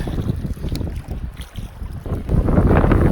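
Strong wind buffets the microphone while kayaking on open water in Northern Ontario, a loud continuous rumbling gust with faint water lapping underneath.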